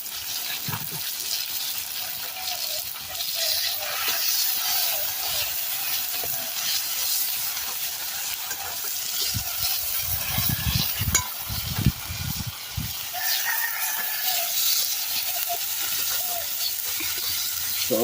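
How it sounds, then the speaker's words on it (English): Natural seasonings fry in a pot over an outdoor fire in Jamaica, giving a loud, continuous hissing sizzle with occasional stirring clatter and low thumps, and no talking. "So I fry the natural seasonings in my piece properly before we add in the mackerel"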